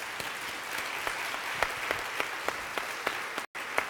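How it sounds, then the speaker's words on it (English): Audience applause at a financial fraud conference plenary, a moderate, even patter of many hands with sharper individual claps standing out, fairly distant and without talk. "just one big round of applause for them again"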